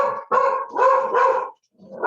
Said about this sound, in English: We hear your dog.